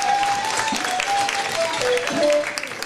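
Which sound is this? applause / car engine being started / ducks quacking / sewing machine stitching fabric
applause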